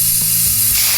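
An aerosol spray can hisses in one loud, continuous burst lasting about a second, close up and alone, cutting off sharply at the end.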